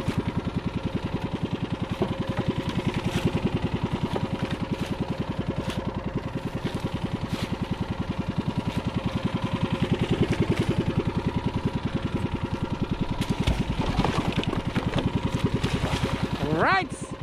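An engine runs steadily with a fast, even mechanical pulse throughout, loud and close, with a brief higher whine near the end.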